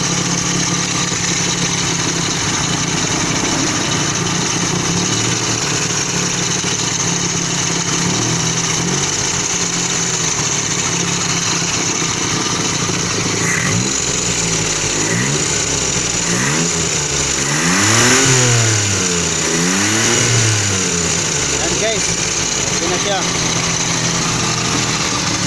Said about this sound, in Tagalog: Yan, nakita na ninyo, umandar na siya.